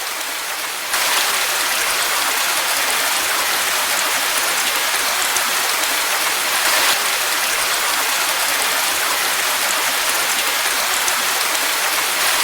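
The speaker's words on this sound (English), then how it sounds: "the rain came pouring down" Heavy rain pours down in a loud, continuous hiss that starts abruptly and keeps a steady roar throughout.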